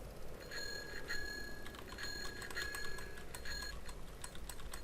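A small bell rings several times in Farming Simulator 2015, bright repeated dings over a steady background of game noise and engine rumble.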